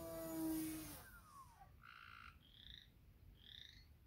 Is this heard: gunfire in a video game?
no